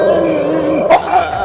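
A dog growls in an animated Marathi story, a loud, steady low rumble held for over a second with a short, sharper snarl burst near the end.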